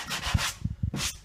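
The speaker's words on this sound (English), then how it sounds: "So for the light sanding just after the second coat" Light sanding across a drywall ceiling patch after its second coat of compound, a series of soft, close rubbing strokes with short pauses between passes.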